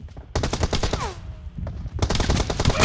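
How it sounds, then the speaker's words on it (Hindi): Gunfire from an M4-style rifle in PUBG Mobile, with rapid, loud bursts of automatic shots near the listener, a short pause and then another fast burst. "चलो अब गन से मारेंगे"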